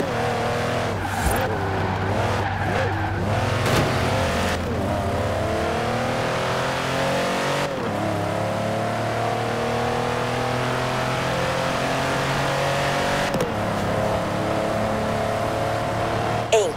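A video game race car drives toward a nearby racing event, its engine loud and close with sustained revving that rises and shifts between gears, plus brief tire squeals.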